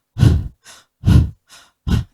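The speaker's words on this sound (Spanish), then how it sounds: "El ejercicio aeróbico es cuando hacemos esta respiración." Breathing demonstration for aerobic exercise: three loud, close, forceful exhalations alternating with two softer inhales, evenly spaced in a steady rhythm with no speech.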